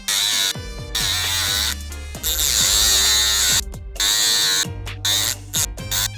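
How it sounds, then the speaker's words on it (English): Rotary tool cutting the metal shield on the back of an iPhone 11 Pro Max front camera, a high-pitched whining buzz in repeated bursts, its pitch swinging down as the bit bites into metal, with short silent gaps. "use our rotatory tool to cut the metal from the back of the camera"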